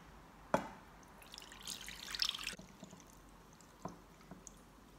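Extra water being poured off noodle dough for Shanxi rolled noodle skins: a sharp tap, then a short splashing pour and a few drips, faint and close, with no talk.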